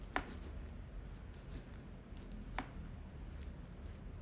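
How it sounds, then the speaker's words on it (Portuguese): Wet hands poke holes into a sticky bread dough, giving two soft, sharp taps spaced a couple of seconds apart over a faint, steady background hiss. "Com as mãos molhadas, pra não grudar tanto as mãos, a gente vai fazer os furinhos"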